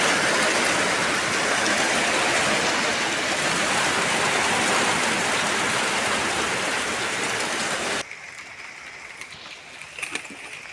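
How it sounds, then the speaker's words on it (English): Light drizzling rain in a village, a steady dense hiss of drops lasting about eight seconds before dropping away to a quieter outdoor background with a few faint sounds. "At this point, rain was already drizzling."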